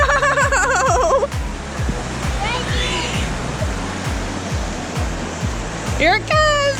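At a Disney theme park water feature, water rushes back in a loud, steady wash of splashing and surging, while excited voices exclaim over the noise near the start and end.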